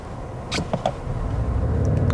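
A 2021 Genesis G80 2.5T four-cylinder luxury sedan pulls away from a stop, with a couple of brief clicks before a steadily rising engine rumble heard from inside the cabin, no talk.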